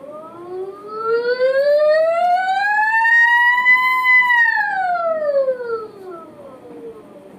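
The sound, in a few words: voice imitating a siren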